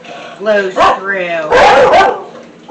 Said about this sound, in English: They love to bark at anything they think is here.